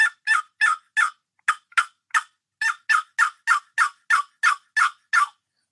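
A hunter's mouth call imitates a wild turkey gobble: a long run of about seventeen sharp, rapid clucking yelps, loud and close with brief pauses between bursts, with no other sound.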